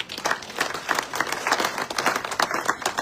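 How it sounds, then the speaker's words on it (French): A church congregation applauds together, a dense, steady patter of many hands clapping for about three seconds, fairly close and continuous. "acclamons pour la gloire de Dieu"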